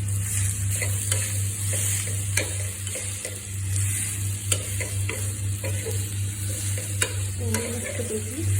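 Boiled potatoes sizzle and fry in a pan while a spoon stirs and scrapes in repeated knocks over a steady hiss, close by and with no talking.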